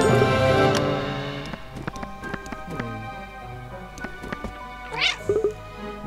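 Cartoonish cat meows from the video game Cat Quest, a few short meows rising near the end over busy game music and effects.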